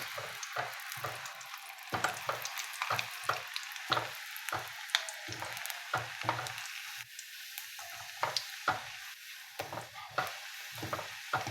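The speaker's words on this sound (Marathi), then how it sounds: "आता आपण या तेलामध्ये टाकून घेऊया." Food dropped into hot oil fries with a steady crackling sizzle, broken by repeated sharp spatters and pops at an even pace, close by and with no talking.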